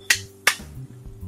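Two sharp hand claps about 0.4 s apart, aimed at a clap-sensing microphone controller for a Nintendo GameCube game, with a faint electronic hum underneath.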